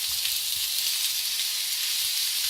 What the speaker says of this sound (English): I'm going to go ahead and I'm going to add my sausage